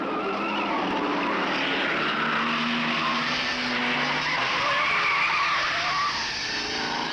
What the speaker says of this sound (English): The sheer potency and speed of Moffat's car on Conrod